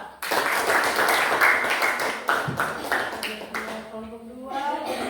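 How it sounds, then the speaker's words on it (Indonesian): A live audience applauds group 2 at a classroom-style presentation, with dense clapping starting abruptly, holding steady for about four seconds and then thinning out as a voice begins talking over the fading claps. "mari kita berikan aplaus kepada kelompok 2"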